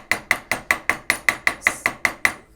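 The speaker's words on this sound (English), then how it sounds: "I've got to hammer it on the softer part" Eleven sharp, evenly spaced hammer strikes on textured silver jewellery resting on a wooden block, each a bright metallic tap with a short ring, close and loud with no talking.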